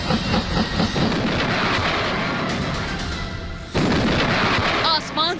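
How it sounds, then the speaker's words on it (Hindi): Bombs bursting during a US air strike on Taliban positions: a dense, continuous roar of heavy booms and rumbling blasts, loud and sustained, with a brief dip before the barrage surges again. "आसमान से बरस रहे ये बम तालिबान का डेथ वारंट है"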